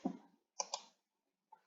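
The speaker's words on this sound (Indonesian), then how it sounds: "jika ingin melihat data tersebut, kita klik view, lalu kita klik" Computer mouse clicks in data-entry software, a pair of sharp clicks close together followed by a single click a moment later, close and fairly quiet with brief silence between.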